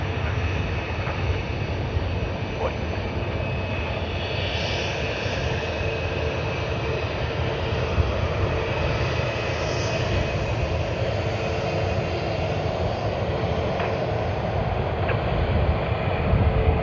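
A Delta jet airliner bound for Los Angeles at Sydney Airport gives off a steady, distant jet-engine roar that holds for a long stretch without fading.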